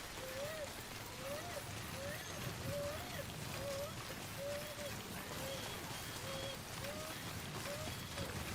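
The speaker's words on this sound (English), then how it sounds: "No end in this rain." Steady rain falls in Death Stranding, a constant hiss of rainfall under a repeating chirping tone.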